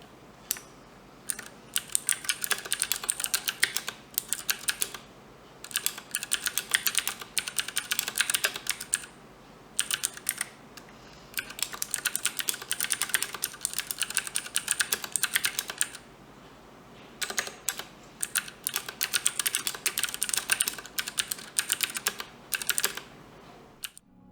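A Ducky One 2 Mini mechanical keyboard with Cherry MX Blue switches typed in steady bursts, each press a crisp clicky tap, close and clear with short pauses between runs and no talking.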